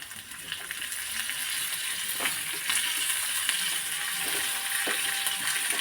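Curry leaves dropped into hot oil give a steady, close frying sizzle with a few sharp crackles and pops scattered through, no talking over it.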